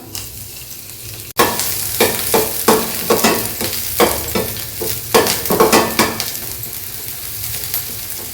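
Chopped ginger and garlic frying in oil for a potato chilli 65 dish, a loud sizzle starting abruptly and then stirred with repeated rhythmic scrapes of a utensil against the pan.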